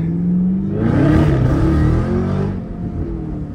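A Camaro ZL1 1LE accelerating hard, its engine note climbing loud and close into a rising roar, then easing back to a lower drone.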